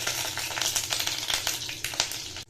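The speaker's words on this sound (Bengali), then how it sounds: "এবার তেলের মধ্যে আমি দিয়ে দেবো আমার এই পিউরিটা।" A puree of onion, ginger, garlic and tomato hitting hot oil in a pan for matar paneer: loud, close, bubbling sizzle with crackling spurts that pulse unevenly for a couple of seconds, no voices.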